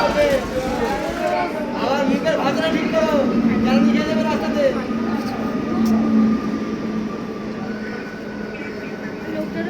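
A Bandel–Howrah electric local train at Serampore station, its motors rising and falling in a loud whine over the platform's steady rumble, with voices in the background.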